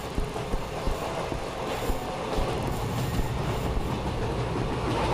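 A train rolls along in an Indian horror video game, producing a dense, steady rumble with faint clickety-clack wheel noise throughout, no speech.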